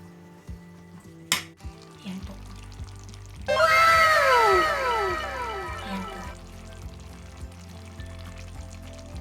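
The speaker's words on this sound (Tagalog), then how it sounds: "Then, hahaluin ko lang po." Chicken pieces sizzle loudly in a hot pan as they are stirred for sinigang, with a burst of frying noise that swells and then settles into a softer crackle.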